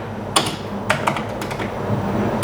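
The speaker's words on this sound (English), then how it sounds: "So all the keys are working." Keys clacking on a restored Commodore CBM 4032 PET keyboard, a handful of sharp, separate presses in an irregular rhythm, close and clear over a quiet background hum.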